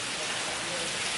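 Steady heavy rain pouring down in a thunderstorm, a dense, continuous hiss close by with no distinct thunder clap.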